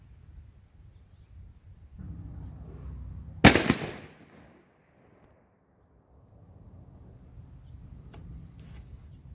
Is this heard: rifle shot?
yes